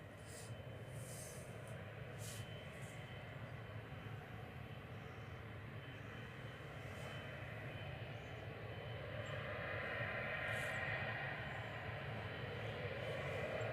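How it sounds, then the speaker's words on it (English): Etihad Boeing 777 jet departing Manchester Airport, a steady broadband engine roar holding loud and constant throughout and swelling slightly near the end, heard alone without talk. "It's time for some 777 action, everyone. Etihad is about to depart."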